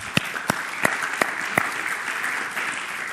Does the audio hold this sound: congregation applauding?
yes